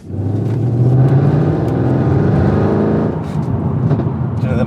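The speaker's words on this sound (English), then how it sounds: "them IP headers sound absolutely amazing" A supercharged 750 bhp Mercedes C63 with IP headers revs hard, its exhaust rising into a loud, deep roaring drone, then settling into a lower rumbling burble.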